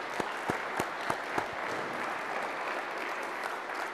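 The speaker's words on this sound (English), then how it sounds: "Let's give a round of applause again to Sergeant First Class Chris Strange." An audience applauds after a national anthem at a formal speech event, sustained crowd clapping with a few sharp, close individual claps standing out near the start before settling into an even roar.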